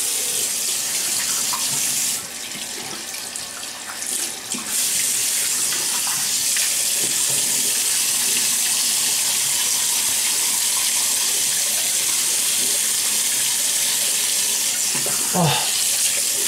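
Tap water runs steadily into a sink for wetting the face before a shave over about six to seven days of beard growth, a continuous close splashing hiss that briefly changes near the start and ends with a short clatter.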